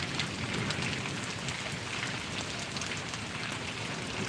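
Steady downpour over Paravadi village in Gariyadhar taluka: a continuous broadband wash of raindrops pattering on surfaces, close and even in level, with no talking heard.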